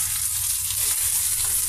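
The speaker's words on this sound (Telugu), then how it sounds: "మన ఆలూస్ ఫ్రై అవుతున్నాయండి" Potato pieces sizzling in oil on medium flame with turmeric, tempering seeds, curry leaves and garlic, a steady bright frying hiss with no voices.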